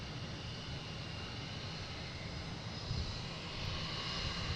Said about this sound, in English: we have a JetBlue coming in from Las Vegas